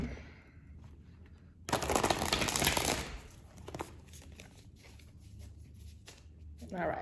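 Tarot cards are shuffled in a short, crisp burst of riffling and flicking lasting about a second, surrounded by quieter handling sounds and a person talking.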